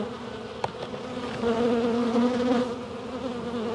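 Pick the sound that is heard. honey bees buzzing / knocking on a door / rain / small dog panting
honey bees buzzing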